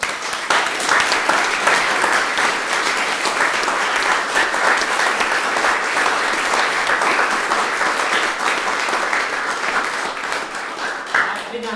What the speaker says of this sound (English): can we just please give them a round of applause?